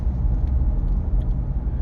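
Steady low rumble inside a moving car, dense broadband road and engine noise filling the low end with no speech, continuous and even throughout.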